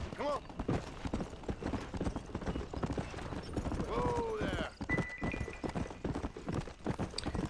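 A horse's hooves clip-clop steadily in the Red Dead Redemption video game, a continuous mid-level gait, with someone talking over it and a brief whinny-like sound partway through.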